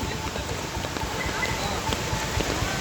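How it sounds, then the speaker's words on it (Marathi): Heavy monsoon rain pours down steadily in Pune, a dense continuous hiss of drops on surfaces filling the scene at moderate loudness. "खूप मोठ्या प्रमाणावर पावसाचं प्रमाण पुण्यामध्ये वाढलेलं आहे"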